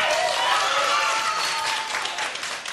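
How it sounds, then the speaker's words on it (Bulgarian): Audience applauding singers at a televised performance, a dense, steady wash of clapping with faint crowd noise, loud and sustained throughout. "Вижте и публиката как подкрепя"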